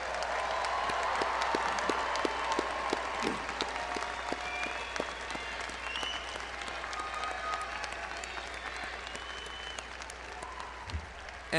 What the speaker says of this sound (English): a big round of applause for the newest master's students anywhere in the world